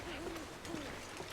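An owl hoots softly in The Long Dark, a few low wavering calls over a steady windy background hiss.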